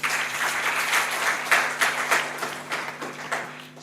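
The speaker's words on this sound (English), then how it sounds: "Round of applause for her as well." Audience applause at a women's leadership forum, steady clapping from a crowd sustained for about four seconds with a few louder bursts, with no speech over it.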